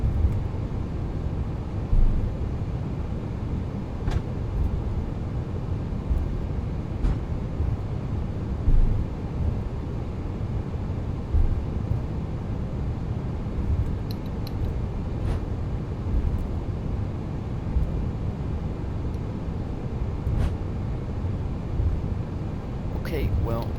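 Airbus A380 engines in a flight simulator on a Johannesburg to Sydney flight, spooling up for takeoff as a steady, broad low roar with wind-like rushing that holds near-constant loudness throughout.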